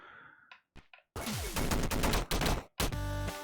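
Gun boots firing in the video game Downwell, rapid bursts of synthesized shots in short volleys separated by brief gaps, loud and clipped, with a few softer electronic blips leading in.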